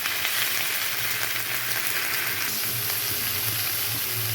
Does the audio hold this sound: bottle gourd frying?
yes